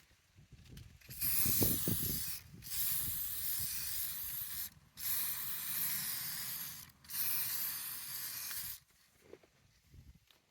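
Aerosol spray paint hisses in several steady bursts of a few seconds each as a second coat goes onto a Kawasaki ZZR1400/ZX14 motorcycle fuel cap, with short pauses between passes and some handling noise near the start.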